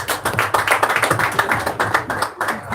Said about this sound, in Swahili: Wapi makofi kwake?